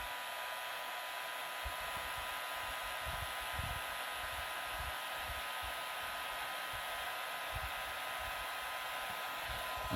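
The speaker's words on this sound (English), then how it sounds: "when you got your heat gun, lighter, whatever the heat source is, put it on high." A heat gun running on high gives a steady, loud whooshing blower roar that holds unchanged throughout, with light low thumps underneath and no talk.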